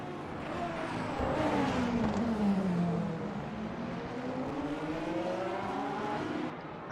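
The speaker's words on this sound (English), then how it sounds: "to actually hear this nice engine sound." A race car engine in the Le Mans Ultimate racing game at the Bahrain circuit drones steadily, pitch dipping and climbing as it passes, loud and continuous with no talking.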